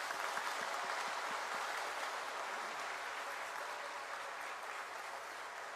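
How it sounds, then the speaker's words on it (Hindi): Crowd applause welcoming national guests at an international Adivasi tribal conference in Nagpur, a steady, dense clapping wash that holds evenly throughout without speech. "आप लोग एक बार सबके सम्मान में इनका जोरदार तालियों से स्वागत करें।"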